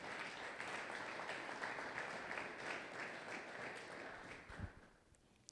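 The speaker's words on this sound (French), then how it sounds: "Est-ce que tu peux acclamer très fort pour la gloire de Jésus?" A church congregation at a Sunday thanksgiving and praise service applauds steadily for several seconds, a dense wash of clapping that tapers off near the end.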